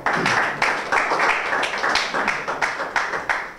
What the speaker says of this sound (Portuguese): Aplausos para o palco, pessoal.